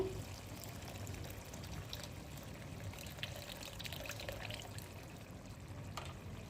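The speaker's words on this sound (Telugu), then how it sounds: "చింతపండు పిసుకున్నదైతే కొంచెం వేసుకుందాము" Squeezed tamarind water poured into a pot of bitter gourd curry gives a soft, steady, continuous liquid pour and trickle throughout, fairly quiet and close, with no talking.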